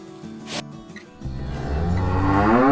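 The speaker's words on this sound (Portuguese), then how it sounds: "Vaca." A cow lets out a single drawn-out moo that rises and swells in loudness, close and clear, with a brief rustling noise just before it and no talking.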